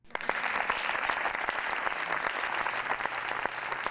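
Studio applause effect fired from a keyboard shortcut during a live stream, a dense, steady burst of many clapping hands running unbroken for the full length at even loudness.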